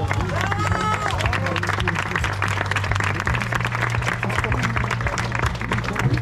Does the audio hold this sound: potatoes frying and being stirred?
no